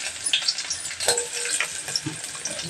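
Cumin, mustard seeds, dried red chillies and garlic fry in hot oil, giving a steady crackling sizzle with light popping and a few stirring clinks, close and fairly quiet.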